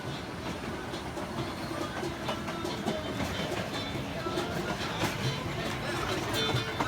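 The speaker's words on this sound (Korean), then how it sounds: "쿠스코로 돌아오는 열차 안." Inside a passenger train returning to Cusco from Machu Picchu, a continuous rumbling ride with rhythmic clickety-clack from the wheels and a faint hiss, steady and enveloping throughout.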